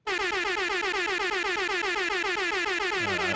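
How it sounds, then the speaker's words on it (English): A loud, blaring air horn effect plays in rapid repeated pulses for about three seconds, then drops into a lower, sliding tone at the end. "I did too many air horns, so this one's for you."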